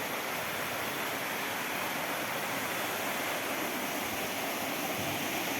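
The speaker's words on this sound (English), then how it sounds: "On the way, we stopped near a hidden waterfall." Rushing water from a hidden waterfall near Dalhousie in the Himalayas gives a steady, dense hiss that continues unbroken, fairly close, with no speech.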